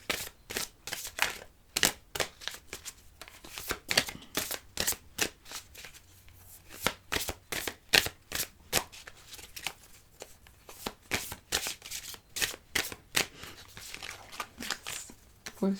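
Tarot cards are shuffled for a love reading, a long run of close, crisp riffles and flutters in an uneven rhythm with short gaps.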